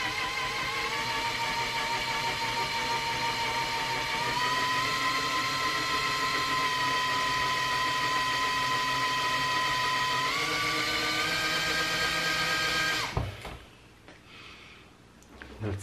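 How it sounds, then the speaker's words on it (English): A power drill runs at low speed to drill out a broken screw stuck in a circuit breaker, a steady whining motor drone lasting about thirteen seconds that shifts pitch slightly before cutting off, leaving quiet handling noise. "you don't have to drill with high speed, you can do it with a low speed"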